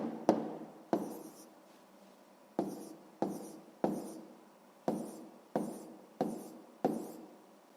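A pen or pencil writes a scale answer for a sixth-grade math exercise, making about ten sharp, distinct taps and strokes on paper at an uneven pace, close and quiet.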